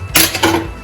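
A gas stove knob turned on in a home kitchen: two quick, loud clicks about a quarter second apart, the second trailing into a brief hiss.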